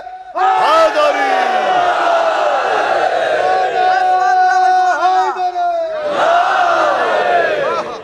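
A large crowd at a religious gathering shouts a slogan in unison with raised hands, loud sustained massed voices swelling, dipping briefly, then surging again.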